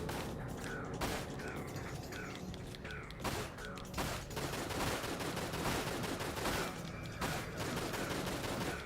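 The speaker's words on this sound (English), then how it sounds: "gotta shoot this guy again" Gunfire from a video game crackles in repeated bursts, several shots spaced roughly every second with mechanical clicks between them, loud and continuous throughout.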